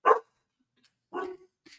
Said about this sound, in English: So yes, now my dog is going crazy.